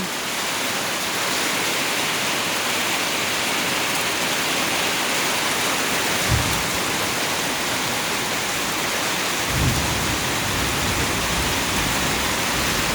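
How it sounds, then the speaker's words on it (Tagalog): Torrential rain roars continuously, loud and close, a broad unbroken wash with two faint low thumps in the middle and no speech. "Ayan guys, umulan ulit."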